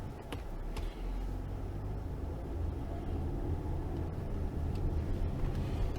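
A car drives along a road in San Jose De Ocoa, its steady engine and tyre rumble holding close and even throughout with no talk.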